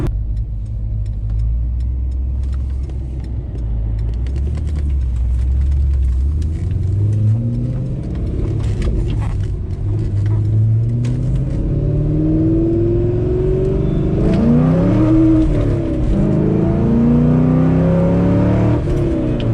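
A Corvette C5 Z06 engine rumbles and climbs in pitch as it accelerates, revving through gear changes with a deep, loud roar from inside the car.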